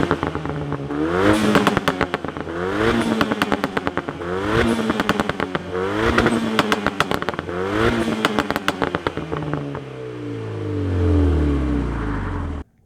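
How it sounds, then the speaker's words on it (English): A 2004 Renault Megane 225 with a modified exhaust, its back box removed or changed, revs hard in repeated bursts, popping and crackling loudly on each lift-off, then settles toward idle near the end. "Some back box has been removed or changed, so it pops and crackles when you hit it."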